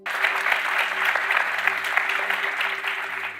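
A studio audience breaks into sustained applause, dense steady clapping filling the room for several seconds, with faint voices underneath.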